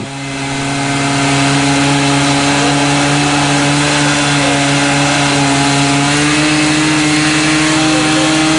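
A chainsaw cutting through railway rails roars loudly and steadily at close range, its engine droning at a constant high pitch for the whole stretch.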